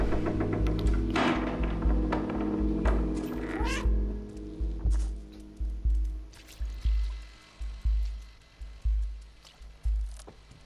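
A cat in the video game Stray lets out a string of loud, close meows and caterwauls, one after another in an uneven rhythm, over soft trickling ambience.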